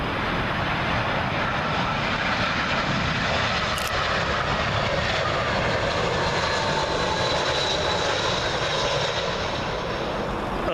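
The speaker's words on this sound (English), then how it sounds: "Up next, Air Serbia with their A319 from Belgrade" An Air Serbia Airbus A319 from Belgrade arrives on 27L at Heathrow, passing low overhead as a loud, steady jet roar that fills the whole clip, with no voices over it.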